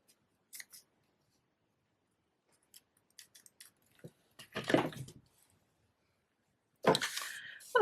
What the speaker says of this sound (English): I'm just going to cut another little piece off.